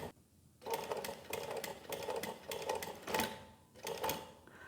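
Industrial walking foot sewing machine, model 1903SX, stitching in reverse with its lever held down, giving a steady run of rhythmic mechanical ticks and needle thumps after a brief quiet start, close and moderately soft.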